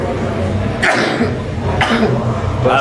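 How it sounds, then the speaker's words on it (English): Two sharp sneezes from a person with a dust allergy, spaced about a second apart, loud and close over a noisy background of people. "Somebody touches you, you have to sneeze 5 times."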